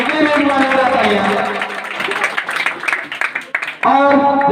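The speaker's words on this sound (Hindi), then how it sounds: "उनके भी जोरदार तालियां" Applause rises at a coaching centre's award ceremony for Bihar board exam toppers, a ragged burst of clapping from the gathered crowd partly under a voice over a loudspeaker before it cuts back to amplified talk.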